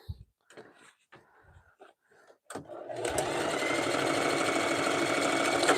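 A few seconds of speech come first, then a sewing machine starts up and runs in a loud, steady whir as jelly roll fabric strips are stitched on the diagonal for a rug.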